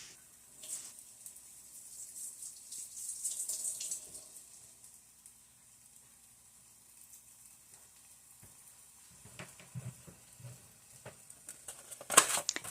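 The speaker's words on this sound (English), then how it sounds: "And I just gotta go rinse my hands after doing that." Kitchen tap running as hands are rinsed at a sink while making a sausage and egg breakfast casserole, a faint steady hiss of water with soft splashes that swell near the start and again toward the end, with no talk.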